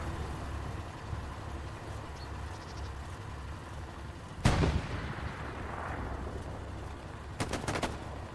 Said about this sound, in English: He might be getting a satchel down on top of a tank.